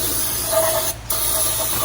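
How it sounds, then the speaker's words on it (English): An aerosol can of brake cleaner sprays onto BMW E46 clutch parts in a loud, close, continuous hiss, broken by a brief pause near the middle before it resumes. "This brake cleaner was a great idea."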